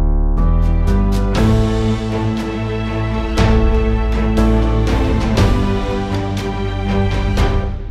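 Orchestral mock-up arrangement with percussion hits, repeating ostinato figures and a melody line, playing steadily and loudly with regular accented strikes throughout, no voices.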